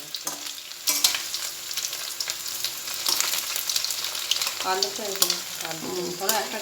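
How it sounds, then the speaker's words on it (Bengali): Cauliflower pieces deep frying for chilli cauliflower, a loud, crackling sizzle with occasional sharp pops, and faint voices murmuring underneath in the latter part. "চিলি ফুলকপি হচ্ছে কপিগুলোকে আগে ভেজে নিচ্ছে"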